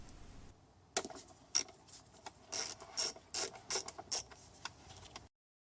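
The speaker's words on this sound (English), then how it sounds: "Using a 10mm wrench, remove the ground wires from the body." Work on an Audi C5 Allroad or B5 S4: a 10mm ratcheting wrench clicks in a series of sharp, close bursts while loosening the bolts on the ground wires attached to the car body. The bursts come in an uneven rhythm over a quiet background.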